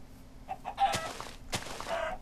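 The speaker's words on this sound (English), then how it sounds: "Oh, chickens!" Chickens clucking in a video game: a few soft, quick clucks build into two louder, sharper squawking bursts close by, with no talk.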